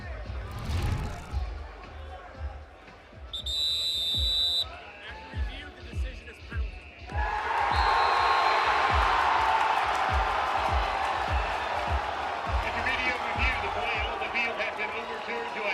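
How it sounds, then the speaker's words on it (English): Spectators at an NCAA tournament men's college soccer match between Saint Louis and NC State murmur under commentary, then erupt into a loud, sustained roar as the referee awards a penalty kick. "listen to the roar you will hear when he points to the spot"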